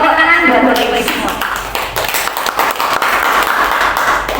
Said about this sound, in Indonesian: Tepuk tangan buat Bapak Ibu semua.